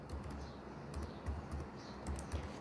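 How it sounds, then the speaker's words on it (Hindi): Fast, steady keystrokes on a computer keyboard while a URL is entered into a browser's address box, faint and close with no speech over it. "यहाँ पर टाइप करना है किसी भी ब्राउज़र के यूआरएल बॉक्स में हमें टाइप करना है यूट्यूब"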